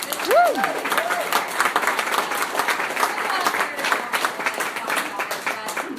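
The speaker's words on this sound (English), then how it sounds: "if we can get a round of applause for Kim" A crowd at a launch party applauds for a woman named Kim, steady dense clapping with some cheering voices and a short whoop near the start.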